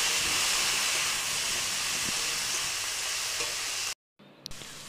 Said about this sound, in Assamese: আমি কাটি লোৱা বিলাহী দুটা দি অলপ সময় ভাজি লম